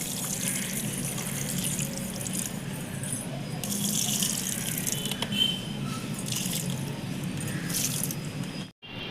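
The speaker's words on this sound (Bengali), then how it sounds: "এই পানিটা আমি গাছটায় দিয়ে দেবো।" Water poured over a newly planted plant outdoors, a steady broadband splashing and trickling that runs throughout at moderate level, with a brief break near the end.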